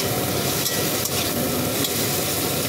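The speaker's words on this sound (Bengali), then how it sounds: "টমেটো একটু কষানো" Tomato fries in a pan with onion and green chilli for a Bengali fish curry, producing a continuous broad sizzling hiss with a few soft stirring knocks, close up and with no talk.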